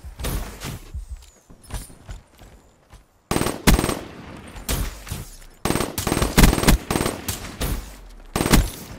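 Gunfire in a shooter video game's gun game mode rattles in rapid automatic bursts and single shots, loud and close, with short pauses between volleys and no talking.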